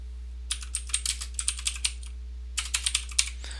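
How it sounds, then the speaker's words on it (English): Keys on a computer keyboard are tapped in two short runs of crisp, close keystrokes separated by a pause, entering a word into a Word table. "I'm going to go ahead and type in Fred's Farm"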